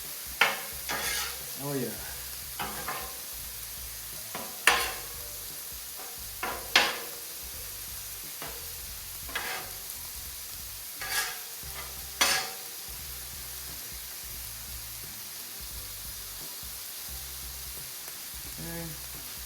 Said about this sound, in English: So once you can see a little bit of browning on the bottom of the beef there, go ahead and start flipping it.